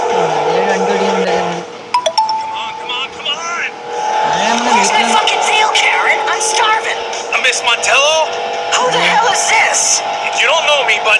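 Car engine roaring with tire squeals and skids while driving in the video game Gangster 4, loud and continuous, with speech over much of it.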